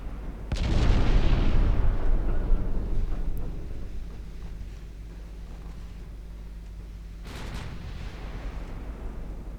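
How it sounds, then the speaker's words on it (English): A deep, rumbling naval gun salvo booms in the Ultimate Admiral Dreadnoughts warship game, swelling and slowly fading, with a second sharp report arriving several seconds later. "Another couple of salvos."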